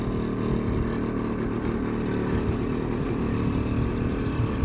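Husqvarna 550 EPOS robotic mower running after losing some of its blades, giving off a steady, droning helicopter-like whir that stays close and even throughout, with no talking.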